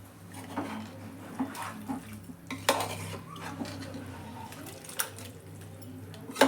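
A spoon stirs chicken gravy in a metal pot, scraping and clinking against the sides in irregular knocks over a low kitchen hum, the bumps spaced unevenly and close by, with no one speaking.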